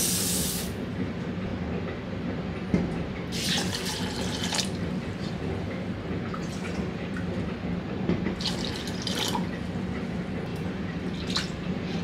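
Toor dal lentils rinsed under a running kitchen tap: a steady, close rush of water with occasional brighter splashes as the grains are stirred, continuing throughout.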